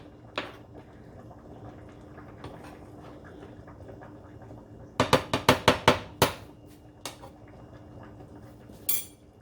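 Lobster alfredo sauce gets stirred in a pot over a low burner: a quick run of sharp metal clinks and scrapes from a spoon against the pot, close and fairly loud, then a lone knock later on, all over a quiet background.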